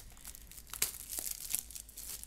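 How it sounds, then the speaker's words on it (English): Plastic packaging is ripped off a Sabrent USB 3.0 2.5-inch hard drive enclosure, giving close, crackling crinkles and a few sharp tearing bursts with no voices. "Rip a hole in the drive and take that, or not in the drive, but the drive packaging,"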